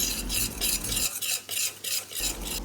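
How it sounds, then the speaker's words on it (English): Mustard seeds, dry red chili and turmeric stirred in hot oil, a close, loud sizzle with rhythmic scraping sweeps of a spoon across the pan. "Keep stirring it."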